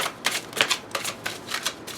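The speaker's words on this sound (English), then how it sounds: "We'll do one more shuffle." A deck of tarot cards is riffle-shuffled close by, with quick papery bursts and soft flicks repeating in a steady rhythm, alone without any talk.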